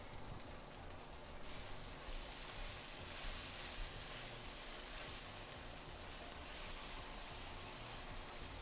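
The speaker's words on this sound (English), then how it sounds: "We're stirring and we're frying." Shanghai stir-fry noodles being stir-fried in a hot pan: a steady, even sizzle and hiss throughout, alone, with low clattering underneath.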